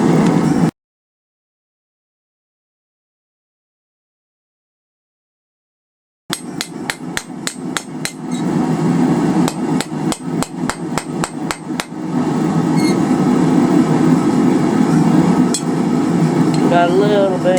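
Hammer blows shape a forged coal fire rake, starting after a long stretch of silence as a rapid series of sharp metallic strikes, then a denser, louder clanging run, close and ringing.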